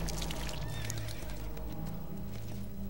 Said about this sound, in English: Oh, I guess we know they're bad because the horse doesn't like them.